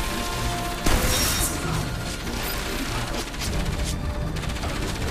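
Dense, rattling bursts of rapid gunfire in a shooting video game fill the whole stretch, with a sharp crash near the start and steady mechanical clatter underneath.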